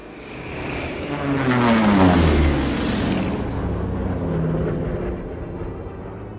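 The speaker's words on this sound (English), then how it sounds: "You hear that? Yeah, I think that's our plane." An aircraft approaches over an airfield, its engine roar swelling to a loud peak and then easing off into a sustained drone, with no voices over it.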